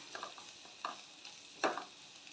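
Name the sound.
stirring Kashmiri chili powder heating in a pan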